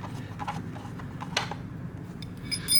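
Steady ratchet clicks and light metallic ticks from undoing an exhaust bolt on a Harley Davidson V-Rod, close up over a low background rumble, with one sharper knock midway.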